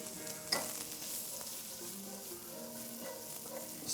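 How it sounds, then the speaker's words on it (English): Chopped onion and garlic sauté in a pan over medium-high heat, giving a steady close sizzle with scraping stirring strokes and a light clink near the start, no voices. "Saute the onion, saute the garlic together."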